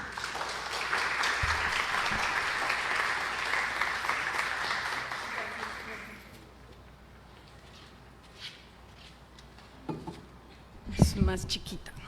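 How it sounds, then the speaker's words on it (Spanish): Conference audience applauds to welcome a speaker at a talk on Afro-Atrato mourning and peace, a broad steady clapping wash for about six seconds that fades, followed by quieter room noise with a few scattered knocks and handling sounds. "Recibamos con un fuerte aplauso a la profesora Natalia Quiseno."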